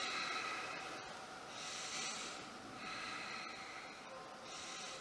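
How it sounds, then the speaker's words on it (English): Slow, deep breaths during a yoga exercise, with audible inhales and exhales in a steady rhythm, close and soft, roughly three cycles with no talking. "Deep breaths."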